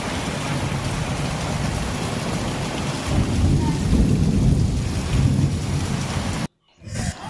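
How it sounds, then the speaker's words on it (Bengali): Heavy rain falls with a low, rumbling roll of thunder and gusty wind buffeting the microphone, swelling midway before cutting off abruptly near the end. "আর এই রকম বৃষ্টির খুব দরকার ছিল শান্তি হয়ে গেল"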